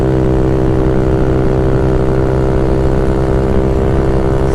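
A Honda Ruckus scooter with a 171cc GY6 engine cruising on a freeway below full throttle, its engine drone loud, close and steady, blended with rushing wind.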